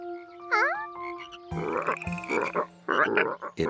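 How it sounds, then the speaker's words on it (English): Cartoon frogs croak loudly in a Curious George scene, first with a few rising, whistle-like calls and then a dense, continuous chorus of overlapping croaks. "These loud frogs probably scared the tadpoles away."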